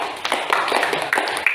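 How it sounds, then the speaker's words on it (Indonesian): A classroom of students claps for a presenting group, a dense, steady burst of hand claps with no voices on top of it. "Tepuk tangan untuk kelompok 4."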